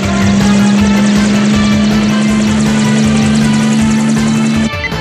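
A helicopter drones with a loud, steady engine hum and rotor noise that holds constant and close before cutting off abruptly near the end, with no voices over it.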